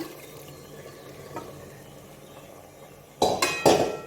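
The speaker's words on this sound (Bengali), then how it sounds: "আমি গরম জল দিচ্ছি কড়াই ধোয়া জলটা" Hot water that was used to rinse out a wok is poured into a pressure cooker of Bengali mutton curry. A few quiet clinks come first, then a short, loud, close splashing pour near the end.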